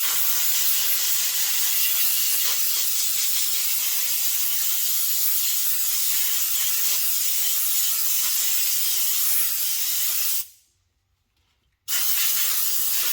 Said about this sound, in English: we're going to take our air hose here and we're just going to blow it out from the back side